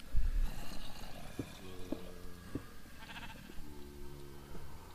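A sheep bleats in a video game, giving two fairly faint, drawn-out bleats a second or so apart over quiet ambient background sound.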